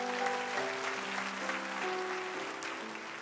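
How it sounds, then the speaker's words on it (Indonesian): Church congregation at Gereja Mawar Sharon in Singapore applauding as one, a steady dense wash of clapping alongside sustained music, with a brief sharp accent near the end. "Kasih tepuk tangan untuk Tuhan Yesus."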